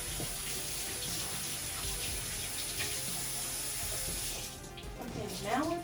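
Tap water runs steadily into a kitchen sink while hands are washed under it, a soft continuous splash that changes near the end.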